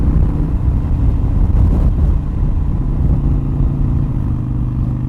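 A Harley-Davidson Iron 883 Sportster rumbles steadily while cruising at about 55 mph in fifth gear, its low engine note loud and continuous with wind buffeting and a slightly lugging, strained character.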